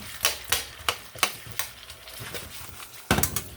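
Fatty 70/30 ground beef fries in a pan while a spatula flips and scrapes it, making a series of sharp scraping clacks over a soft sizzle, with a louder cluster of scrapes near the end.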